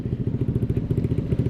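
Honda ADV 150 scooter fitted with a Pure Sound R9 Alpha Series aftermarket exhaust, idling or revving with a full, throbbing low rumble that pulses steadily and stays loud and close throughout.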